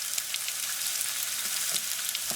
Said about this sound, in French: dans une poêle, on vient mettre un petit peu d'huile, on vient mettre nos oignons et on vient mettre une petite tomate qu'on a coupée